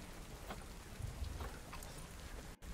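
Steady video game rain patters and hisses evenly on a surface, soft and continuous with no voices.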